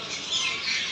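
Caged birds at a market in Kuwait City squawk continuously at close range, a dense, harsh chatter of overlapping calls with no gaps.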